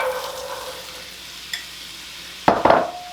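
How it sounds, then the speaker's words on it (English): Diced sweet potato and onion go into a skillet over medium heat with a soft, steady sizzle, then a clatter of stirring near the end. "I'm going to add in my diced sweet potato and onion."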